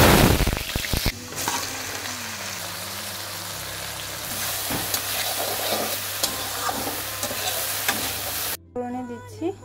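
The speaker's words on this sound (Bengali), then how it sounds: "করে দিচ্ছি তেজপাতা শুকনো লঙ্কা" Bay leaves and dried red chillies frying in hot oil in a home kitchen, giving a steady, close sizzle with stirring clatter that runs throughout before cutting off near the end.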